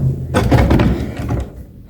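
A heavy mosque door is opened with a close, loud wooden thump followed by rattling and creaking clatter that fades out after about a second.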